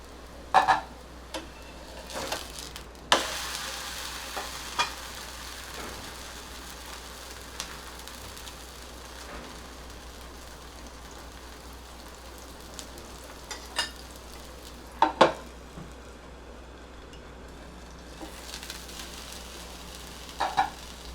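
Pohe thalipeeth fries on a pan with a steady, close sizzle that runs throughout, broken by a few sharp clicks and taps of utensils.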